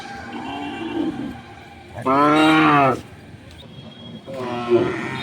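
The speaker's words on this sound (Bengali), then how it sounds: "ইউনুস চাচার এখানে গরু আছে কটি আমরা একটু শুনে নিই" Deshal-breed dairy cows on a farm in Cumilla give one long, loud, nearby moo, then a shorter second moo against a low background.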